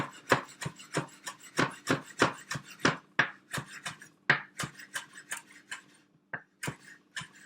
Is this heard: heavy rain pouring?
no